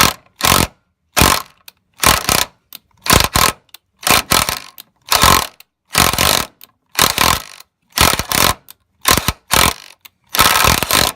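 A ratchet wrench working a fender bolt loose on a Nissan Hardbody 4x4 truck: loud, close bursts of rapid clicking in repeated strokes, each about half a second with short pauses between.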